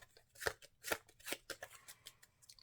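A deck of Marvel Champions cards being shuffled: fairly quiet riffles in a rhythmic series of crisp bursts, about five or six close together, with no talking.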